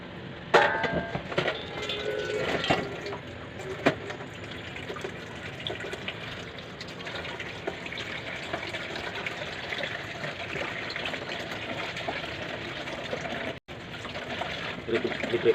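Steady running rainwater from a tap for washing dishes, a broad continuous hiss with faint clatter, heard close with a voice speaking over it at times.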